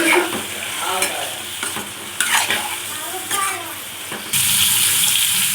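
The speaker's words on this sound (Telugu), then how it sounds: "మునక్కాయలు వేసుకొని కొంచెం ఫ్రై చేసుకున్నామండి ఆయిల్లో" Drumsticks frying in oil in a pan for munakkaya pappu, with soft sizzling, stirring scrapes and a few clunks, ending in a louder steady hiss.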